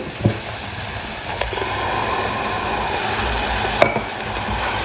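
Tomato puree goes into a sizzling spice mixture of red chili for dum aloo and is stirred, a steady close sizzle with a few scraping knocks of a spoon, no voices.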